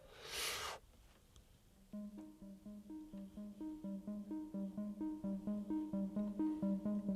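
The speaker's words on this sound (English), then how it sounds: "That ARP is absolutely amazing to use because for some reason this retro sound uses these three notes over and over again." A retro synthwave synthesizer arpeggio, run through an Acid Box 3, cycles three notes over and over in a steady pulsing pattern, clear and up front, after a short burst of noise at the start.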